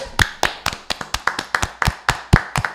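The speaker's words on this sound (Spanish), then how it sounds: "un aplauso para los muchachos" A single person's steady, rhythmic clapping, about a dozen crisp claps at an even pace, close and fairly loud.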